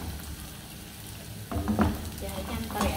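Onions sautéing in a pan for a beef and vegetable soup, a steady low sizzle that turns louder and busier halfway through, with stirring clatter over the frying.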